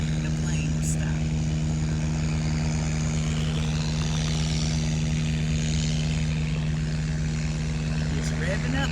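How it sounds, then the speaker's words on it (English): Airplane engines hold a steady loud droning hum with strong low tonal lines as the plane readies for takeoff, continuous and close, with people talking faintly over it. "It's revving up. I hear the engines."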